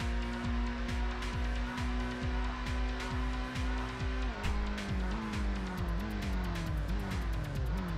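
A race car braking in Gran Turismo 1, engine note dropping as tires squeal and skid, continuous and close with another engine droning underneath.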